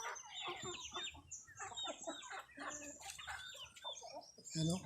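Black Australorp and Rhode Island chickens cluck in a busy, continuous chorus close by, with overlapping calls and occasional louder squawks, joined briefly by a faint voice.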